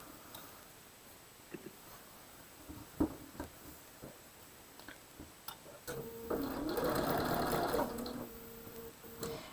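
Quilt block pieces run through a sewing machine, first a few scattered clicks and handling noises, then a steady close whirring run of stitching for several seconds; a person talks intermittently in the quiet opening stretch.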